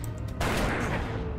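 A single sharp burst of gunfire in the video game Darkest Dungeon cracks out, followed by a short crackling decay; fairly quiet overall.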